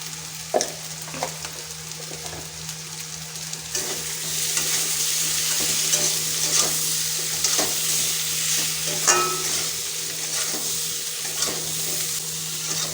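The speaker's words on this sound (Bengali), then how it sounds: "মশলাটা দেওয়ার পরে দু মিনিট মতো কষিয়ে নিয়েছি" Spice paste for a fish curry sizzles and fries steadily in a pan while being stirred, with scraping strokes and occasional clinks over a continuous loud hiss, no voices.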